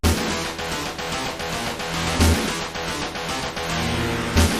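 Doom's Genesis-port soundtrack rendered with the GEMS sound font plays loud and continuous, thin synthesized tones over a steady pulsing beat with periodic heavy bass hits, no voices.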